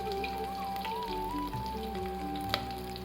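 Ginger sizzles in hot oil with cumin seeds and curry leaves, a steady close frying hiss with faint stirring and one sharp tap near the end.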